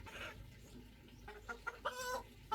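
Domestic chickens on a family farm clucking in short, scattered bursts over steady background hiss, fairly faint and at moderate distance.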